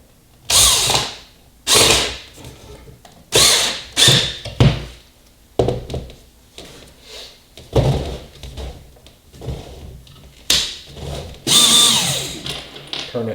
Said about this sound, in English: Turn that drill down a little lower.